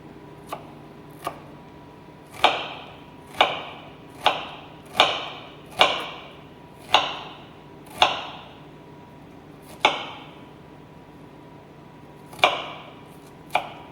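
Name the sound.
knife chopping onion into brunoise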